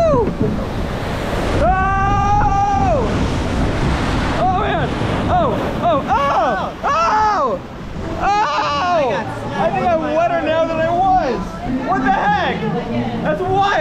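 Splash Mountain log flume ride about to go over a huge waterfall drop, with rushing water and wind noise loud throughout while riders talk and shout over it.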